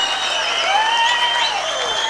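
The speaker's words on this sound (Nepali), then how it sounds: "तालीले स्वागत गरिदिनु होला।" Sustained crowd applause at a Nepali political rally where youth leader Gagan Thapa speaks, welcoming a programme; even, continuous clapping with faint whistles or tones layered over it.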